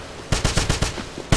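Rapid bursts of suppressing gunfire in the 2009 Wolfenstein game, six or seven sharp, close shots in a quick regular rhythm, a short pause, then one more shot.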